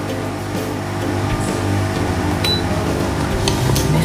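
A Mito air fryer set to 180 degrees for 10 minutes while frying pempek runs with a steady, moderate fan hum and faint mechanical whir, with a few small clicks along the way.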